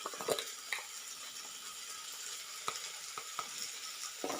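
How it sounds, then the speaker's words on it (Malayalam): Onions sauté in a hot pan for chickpea curry, giving a steady soft sizzle, with a few sharp clicks and scrapes of a spoon stirring against the pan; close and quiet, no talking. "ഇപ്പോൾ സവാള എല്ലാം നല്ലോണം വഴന്ന് കിട്ടിയിട്ടുണ്ട്"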